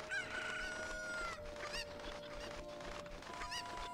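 Chickens in The Legend of Zelda: Ocarina of Time cluck and crow in a noisy game scene, with repeated squawks and a crowing call over a quiet tonal background and no speech.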